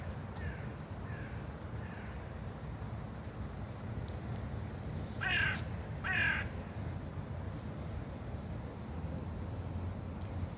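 Crows feed and call outdoors, with a few faint caws early on and two loud, harsh caws close by around the middle, all over a constant low rumble of wind and distant traffic.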